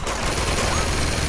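Continuous rapid machine gun fire in the Uncharted 2 video game, a dense unbroken rattle of shots filling the whole moment, loud and close with no talking.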